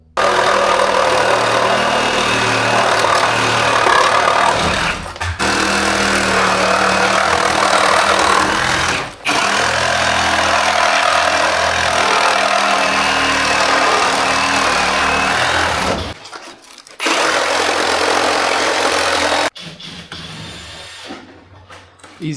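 Power saws cut through a non-load-bearing interior wall in a home in Garden Grove, a loud, continuous grinding roar lasting about sixteen seconds with brief dips, then short pauses and a final burst.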